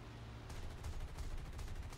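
Aircraft guns fire in War Thunder during a deflection shot at an enemy plane, a rapid, dense burst of shots that starts about halfway through, rattling loudly over a constant engine drone.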